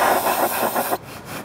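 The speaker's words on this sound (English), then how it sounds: "I always take brake clean and clean it up just so that the mounting points are clean." Short hissing spray of brake cleaner on front shock mounting points, a steady aerosol burst of about one second that cuts off abruptly.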